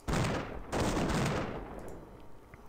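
Railroad gun fire in the strategy video game Imperialism: two loud, heavy booming blasts about 0.7 s apart, each with a long rumbling decay, the second fading slowly into quiet.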